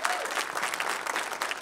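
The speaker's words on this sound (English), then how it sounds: "Councilmember Overstreet, you deserve a round of applause for putting this together" An audience at a community town hall on transportation breaks into dense, steady applause, a close burst of many clapping hands.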